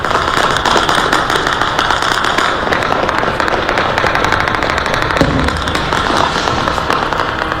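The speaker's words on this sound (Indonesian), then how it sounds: "rentetan senjata dan ledakan terdengar di berbagai titik kota Erbil" Gunfire and explosions echoing across Erbil, Iraq, during a night of air attacks and interceptions, dense continuous crackling bursts and rapid reports at a loud, sustained level.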